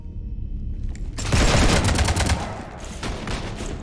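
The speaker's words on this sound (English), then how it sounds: "You want to stop shooting up my ship?" Gunfire aboard a ship in the video game Mass Effect 3, a quiet hum giving way to a sudden loud burst of rapid automatic shots that keeps rattling, then thins into scattered cracks.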